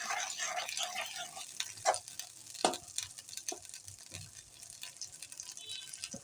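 Ginger sautéing in hot oil for an egg curry, a soft steady sizzle with scattered stirring clinks and scrapes, close and fairly quiet.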